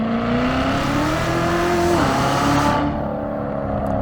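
A C7 Corvette Z06 accelerates hard, its engine rising in pitch as a loud, close drone, then easing off after a couple of seconds, with the tires struggling for grip.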